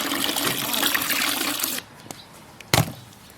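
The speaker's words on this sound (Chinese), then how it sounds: "先把鱼往进洗一下。" Water running from a tap over a snakehead fish being washed by hand, a close steady splashing gush that cuts off partway, followed by a few small drips and a sharp clatter.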